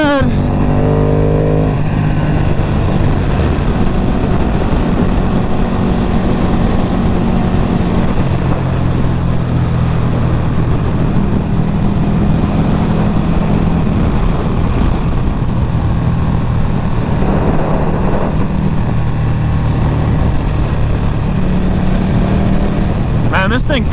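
A Special Edition Ducati Panigale V2 sport motorcycle being ridden, its engine droning steadily and loudly throughout with wind rush, small rises and falls in revs, and no clear break.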